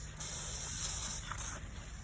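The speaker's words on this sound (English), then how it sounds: "I'm just going to spray a plant down low" A sprayer hisses steadily, releasing a continuous fine mist onto a plant's lower stems with a couple of short breaks. It sounds close by and quiet.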